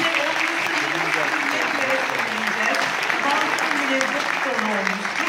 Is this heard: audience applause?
yes